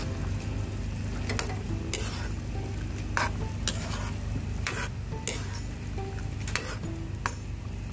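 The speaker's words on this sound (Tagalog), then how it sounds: "Sili, bawang, sibuyas. Then, tsaka natin siya haluin." Garlic, onion and chili are stirred in a sizzling pan for Bicol Express, with a steady frying hiss broken by sharp, irregular scrapes and clinks of the utensil against the pan.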